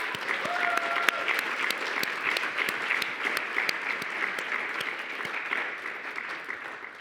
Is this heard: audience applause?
yes